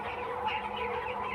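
Chickens on a Bangladeshi broiler poultry farm, a flock of about 1800 birds aged 24 days, keep up a steady, dense clucking and chattering with no pause and no voices.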